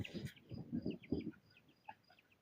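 Faint, high-pitched chick peeps repeat in short chirps, with low clucking sounds early on, quiet and close by.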